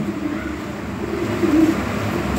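Original European Lahori pigeons, a high-quality breeding pair, coo softly in a low, steady murmur, swelling briefly louder midway, close by with no talking.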